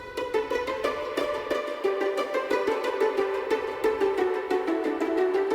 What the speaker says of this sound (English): The high pizzicato is the same group as before